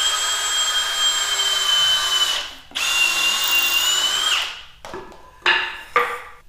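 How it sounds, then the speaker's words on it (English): A power drill fitted with a countersink bit bores into the ends of wooden pieces, whining loudly and steadily for several seconds, briefly stopping, then resuming before a few short bursts near the end. "I'm gonna use this countersink bit here, and I'm gonna drill in the ends, drill into the ends"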